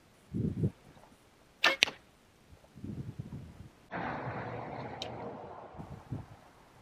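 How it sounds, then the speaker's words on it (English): Hoyt Carbon RX5 Ultra compound bow firing an arrow: a sharp, quick release snap followed by a brief hiss and thud, in a quiet outdoor setting with faint breathing and rustling around it. "Now I'm going to shoot this bow so you guys can see how fast it shoots"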